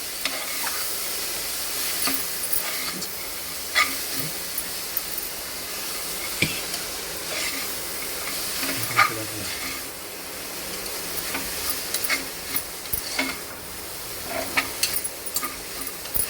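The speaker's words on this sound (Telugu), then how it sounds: "ఇప్పుడు కొంచెం ఇది ఒక 2 మినిట్స్ ఫ్రై చేసుకోవాలి." Ponaganti leaves frying in a pan for dal, a continuous hissing sizzle with scattered crackles and light stirring clicks, close and steady without talk.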